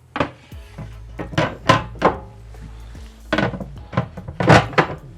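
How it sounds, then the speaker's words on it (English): Several soft-close drawers in a 2022 Newmar Bay Star 3811 motorhome slide and shut one after another with soft wooden thunks and light knocks, close by, with no talking. "These are the soft close drawers. See how nice that works?"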